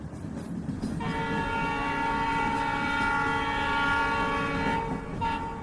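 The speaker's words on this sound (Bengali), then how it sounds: "আসানসোল স্টেশনে ট্রেন ঢুকেছে, উঠে পড়, না হলে আবার গেটের মুখে ভিড় হয়ে যাবে।" Train pulling into Asansol station, with a loud sustained horn blaring over the rolling rumble of the wagons for several seconds, no voices.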